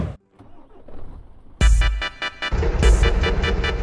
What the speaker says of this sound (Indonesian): Kita coba hidupkan mesinnya